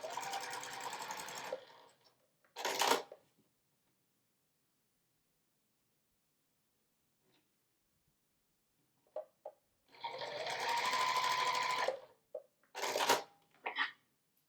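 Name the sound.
sewing machine stitching quilt pieces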